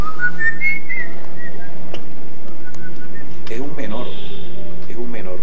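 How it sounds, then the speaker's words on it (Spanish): Someone whistles a wavering melody, soft and close, with a low background hum and a few brief bursts of other sound. "Cuando usted lo empieza a silbar."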